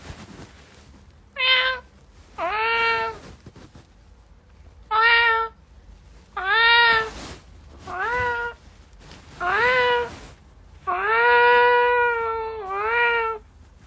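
A cat meows repeatedly, about nine distinct calls of rising and falling pitch spaced a second or so apart, loud and close, with a longer drawn-out meow near the end.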